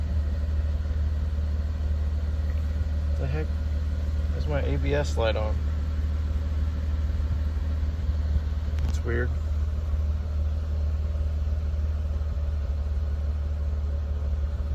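An 80 Series Toyota Land Cruiser idles with a steady, low, continuous rumble for the whole stretch, while someone talks briefly over it.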